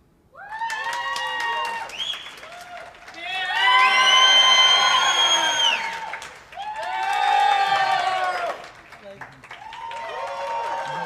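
A game-show style audience bursts into loud applause, cheering and whoops in three swelling waves, with shouting voices throughout and short lulls between the surges.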